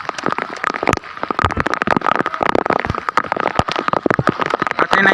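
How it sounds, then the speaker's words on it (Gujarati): Heavy monsoon downpour at the Osam hill waterfall near Patanvav, a dense, continuous roar of rain with countless sharp drop impacts pattering close by throughout, loud and steady with no voices. "ફૂલ વરસાદ આવી ગયો છે એટલે અમે નીચે ઉતરી ગયા છીએ"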